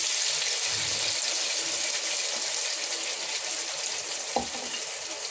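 Spices frying with onion, cashews, raisins, ginger, green chilli and poppy seeds make a steady, loud sizzle close by, with one brief knock near the end and no talk.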